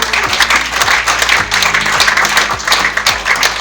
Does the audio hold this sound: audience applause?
yes